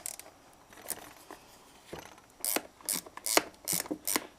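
A ratchet wrench clicks through a series of quick, close turns while installing a motorcycle seat on a DR650, the sharp ratcheting bursts coming in short rhythmic runs that grow louder toward the end.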